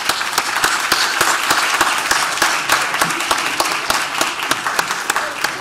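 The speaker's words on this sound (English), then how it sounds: "Please, let's give them a round of applause." An audience gives a round of applause after a film screening and community discussion, dense, close clapping holding steady for several seconds with no talk over it.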